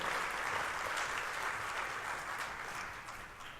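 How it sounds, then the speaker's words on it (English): Audience applause at a talk by an energy company CEO, a steady broad wash of clapping that holds at an even level and eases slightly toward the end. "that's worth an applause, because you did that"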